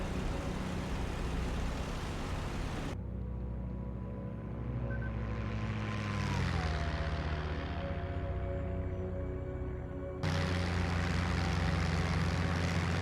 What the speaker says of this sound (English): P-51 Mustang